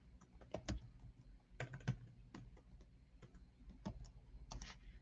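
Someone types on a computer keyboard in short clusters of crisp, close key taps separated by brief pauses, with nothing else audible over the clicks.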